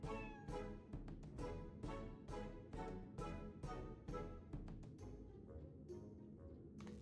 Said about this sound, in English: Hey, we got some two more cats here for you.